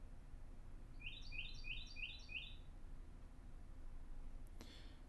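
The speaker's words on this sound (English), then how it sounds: "That bird is still chirping." A bird chirps in a quick run of about six short, bright notes heard indoors at moderate distance, followed by quiet background hum and a faint click near the end.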